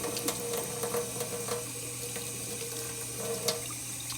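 A tap runs steadily over a jar being rinsed at a sink, a continuous close wash of water with a few brief splashes and clinks.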